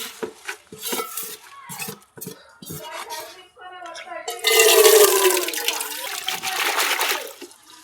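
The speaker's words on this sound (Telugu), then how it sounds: "ఇసుక నీళ్ళలో వేసుకొని జాడించుకుందాం" Gongura leaves are swished and rinsed in a vessel of water to wash out sand, with splashing, sloshing and clinks of the pot, close by, building to a louder rush of water midway; a voice talks early on.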